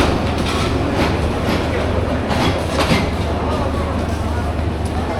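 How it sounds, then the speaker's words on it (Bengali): The Bijoy Express pulls out of Mymensingh railway station: a dense, steady rumble of rolling wagons and rhythmic wheel clatter fills the air, loud and close throughout, with station bustle underneath. "ময়মনসিংহ রেলওয়ে স্টেশন ছেড়ে চলে গেল আরও একটি ট্রেন বিজয় এক্সপ্রেস"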